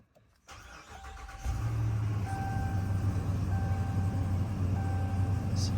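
A Ram 2500 pickup's 6.4 HEMI V8, just fitted with new spark plugs, cranks and fires up, then settles into a steady, loud idle close by. Repeated warning chimes sound over the engine.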